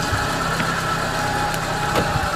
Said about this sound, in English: Now he has heard that the car has arrived